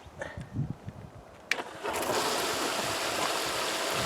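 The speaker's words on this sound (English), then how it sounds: "let's get her fired up and get the water in it" A compact wash plant's pump engine starts with a sharp click, then settles into a steady, loud running drone that continues to the end, with brief rustling and bumps beforehand.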